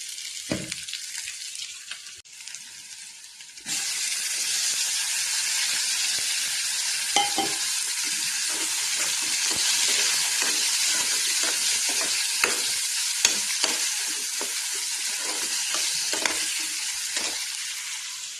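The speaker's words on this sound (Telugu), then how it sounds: "ఎగ్స్ అయితే సాల్ట్ కొంచెం పసుపు వేసి అయితే ఉడకబెట్టేసిన పసుపు వేస్తా పసుపు వేసి టమాటాలు వేయాలి" Tomatoes frying with turmeric and salt in a pan give a loud, steady sizzle after a brief quieter start, broken by occasional stirring scrapes and clinks.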